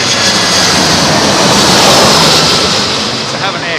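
A jet aircraft roars loud and close at London Heathrow Airport during thunderstorms, a broad steady rumble holding strong throughout with no voices.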